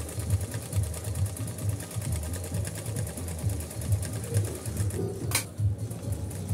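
A Pfaff Hobby Matic 808 sewing machine running a straight stitch, a steady fast mechanical whir with an even rhythmic needle clatter throughout, close and moderately loud, with one brief click near the end.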